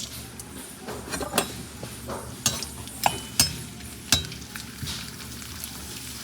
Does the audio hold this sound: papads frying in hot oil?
yes